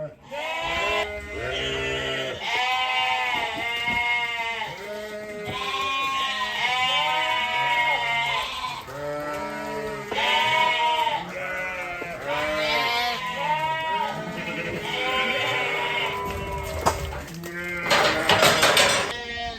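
A flock of sheep and lambs bleats continuously on a farmyard, many overlapping calls near and far, loud and layered throughout with no pauses.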